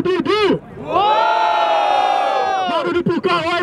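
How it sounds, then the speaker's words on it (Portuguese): At a rap battle semifinal in São Paulo, a crowd cheers and yells loudly in one sustained roar, with shouted voices at the start and end. "Barulho pra quem gostou das rimas do Thiago e do Dudu!"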